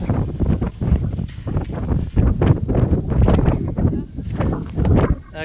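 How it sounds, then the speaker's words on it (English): Strong wind buffets the microphone at a hilltop lookout in Thakhek, Laos, gusting in rough, uneven surges that roar and drop across the whole stretch, with no clear talk over it. "You get up here and the wind just hits you."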